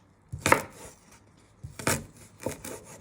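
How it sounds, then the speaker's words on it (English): A knife chops food finely on a cutting board while prawns with honey and garlic are prepared, three clusters of crisp close taps spaced apart, fairly quiet with no talk. "then what you want to do is you want to chop it into little pieces."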